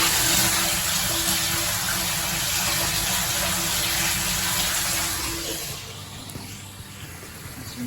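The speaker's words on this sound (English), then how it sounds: "That's some nice hot water." Hot water runs from a truck skid system with electric reels, a loud, steady, broadband gushing rush with a faint tonal hum underneath that eases off slightly toward the end.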